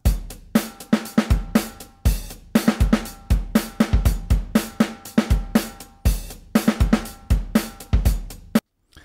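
A programmed drum groove loops: punchy kick and snare hits with ticking hi-hats, steady and close, stopping abruptly at the end.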